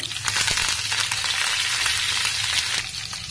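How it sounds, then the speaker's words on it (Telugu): Urad dal, thinly cut dry red chillies and curry leaves sizzle steadily in hot oil as a tempering, a dense continuous crackle with small spitting pops, close and fairly loud, with no talking. "ఇది 1 నిమిషం అలా పోపు దినుసులన్నీ వేగినాక"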